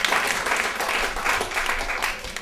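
An audience at a stand-up comedy show applauds with dense, continuous clapping that fills the whole moment.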